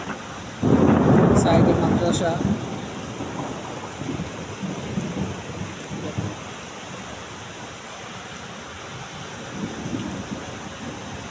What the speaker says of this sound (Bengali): কিভাবে একভাবে বৃষ্টি নামতেছে দেখছেন।